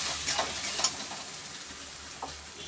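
Soybean chop filling frying and being stirred in a pan, a steady close sizzle with a few scraping stirs of the spoon.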